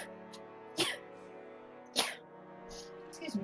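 Two sharp sneezes about a second apart from a person at a tabletop game session, followed by a softer sound near the end, over a low background hum.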